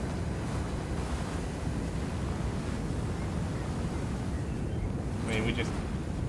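Hose spraying water at a fire in Firefighting Simulator: Ignite, a continuous hissing, surf-like rush of spray that holds steady throughout, with a brief burst of higher crackle near the end.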